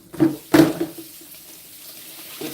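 Broccoli being rinsed in a kitchen sink, with running tap water splashing in two brief louder bursts before settling into a faint, steady trickle, and no one speaking.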